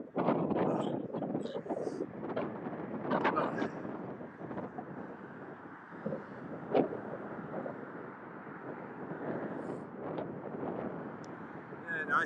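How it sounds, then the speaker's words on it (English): Strong wind buffeting a microphone on a nature walk from Hanley Park to Trentham Gardens, with continuous low rumbling gusts and bursts of louder blasts. A voice talks faintly underneath. "this will be very windy now"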